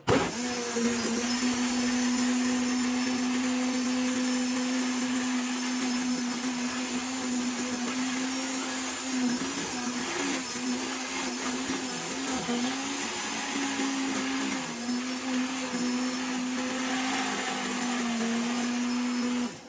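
An old household blender whirs steadily at a constant pitch for the whole stretch, loud and close with a strong motor hum, with no voices over it.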